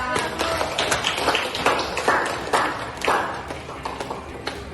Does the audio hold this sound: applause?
yes